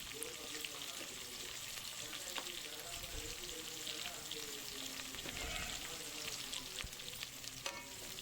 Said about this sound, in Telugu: ములక్కాయలన్నీ కొంచెం ఫ్రై చేసుకోవాలి